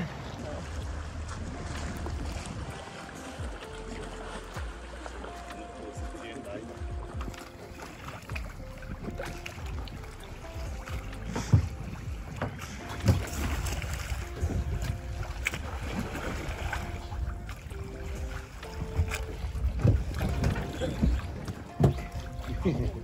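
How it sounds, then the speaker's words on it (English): A small boat carries passengers out to a ferry off Bohol in the Philippines, with a steady engine drone, water splashing and wind buffeting the microphone, and faint voices throughout. "the little boat comes to pick you up and brings you to the ferry"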